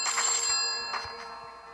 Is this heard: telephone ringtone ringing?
yes